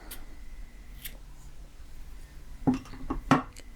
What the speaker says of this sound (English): You can pull your loop out a little bit and just cut your yarn